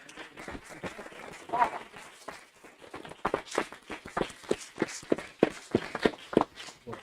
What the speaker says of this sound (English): So I'd like to do a little bit of applause for Irondale City.